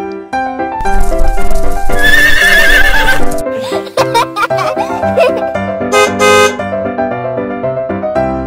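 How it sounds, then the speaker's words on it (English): A horse neighs loudly and close, a long shaky whinny followed by snorting, breathy bursts and a second rising whinny. "And the sound of the horse is..."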